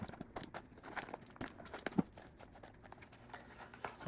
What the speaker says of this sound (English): Now let's unwrap this.